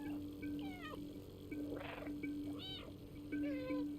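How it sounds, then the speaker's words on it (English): A cat meows repeatedly in the video game Stray, several short rising-and-falling calls spaced through the stretch over a steady low game hum and a faint tone, no speech. "So in cutscenes, you can actually press the meow button."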